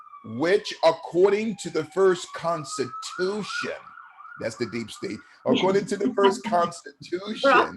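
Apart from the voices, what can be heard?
emergency vehicle sirens passing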